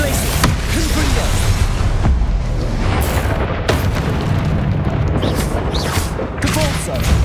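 Confringo fire-spell blasts go off in Hogwarts Legacy combat, several loud booming bursts with crackling debris amid continuous battle noise and character voices calling out spells.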